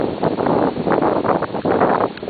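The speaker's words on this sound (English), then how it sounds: "Really windy today." Strong wind buffeting the microphone in loud, continuous gusts in an autumn cottage garden, with a rough rumbling roar and no voices.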